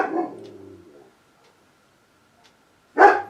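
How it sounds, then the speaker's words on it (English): A neighbourhood dog makes a drawn-out whining call that fades to silence, then a single sharp, loud bark close by at the end. "there's another dog in the neighborhood barking"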